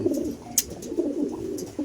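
A racing pigeon coos in low, soft repeated phrases, close by, with a few sharp clicks and rustles over the steady cooing.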